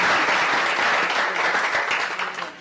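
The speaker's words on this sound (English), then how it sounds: "And if everybody could just clap for the Moms Demand Action" An audience at a city council meeting applauds in a dense, steady wash of clapping that fades toward the end.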